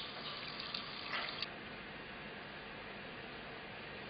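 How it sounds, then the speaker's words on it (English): Water runs steadily from a tap while an Oras Nova thermostatic faucet cartridge and its filters are rinsed, with a constant hiss and a few faint clinks of handling early on. "Clean the cartridge and the filters under running water."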